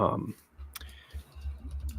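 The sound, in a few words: typing on a keyboard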